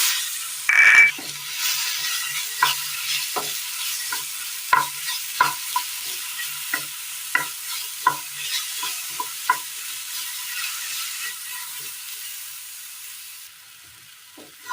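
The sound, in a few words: chopped plantain frying and stirred in ghee in a pan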